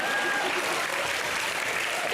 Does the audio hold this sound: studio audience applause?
yes